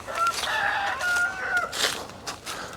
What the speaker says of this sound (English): It's the neighbor's chickens you're hearing over there.